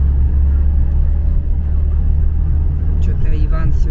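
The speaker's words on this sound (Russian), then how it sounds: "Мы едем на большой машине, на нашем УАЗике, поэтому и звук такой" Low, steady engine rumble from a UAZ off-road vehicle while driving, a constant loud drone filling the whole stretch with light rattling, and a faint voice briefly heard near the end.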